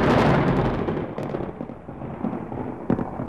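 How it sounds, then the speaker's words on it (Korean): A deep rumble of thunder that starts loud and rolls away, fading into a lingering low growl with a few faint cracks. "먼저 천둥소리."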